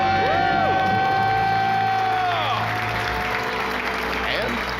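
A studio audience screams and cheers in celebration, a loud sustained roar of whoops and applause, with a voice talking over it as the noise continues.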